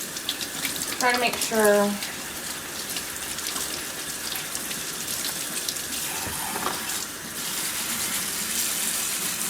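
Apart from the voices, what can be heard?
rinsing cat fountain parts under a sink tap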